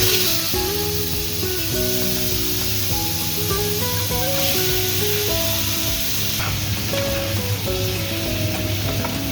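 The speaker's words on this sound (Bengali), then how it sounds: "আমি সসপ্যানের মধ্যে নিয়ে নিয়েছি তেল দিয়ে দিয়েছি সর্ষের তেল আমি লোটে মাছের কাঁটাটা ছাড়িয়ে নেবো কিন্তু মাছগুলো আমি তেলের মধ্যে" Fish sizzles in mustard oil in a saucepan with a dense, hissing spray that runs loud and unbroken throughout, while steady tonal music plays alongside and nobody speaks.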